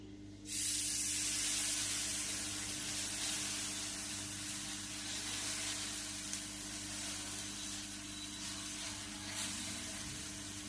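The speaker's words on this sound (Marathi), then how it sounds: "आता तवा तापायला लागलाय. त्याच्यावर मी तेल घालायला." Oil sizzling on a hot tawa griddle over a medium gas flame while a breakfast dish is cooked, giving a steady, close, loud hiss that starts abruptly and carries on without talk.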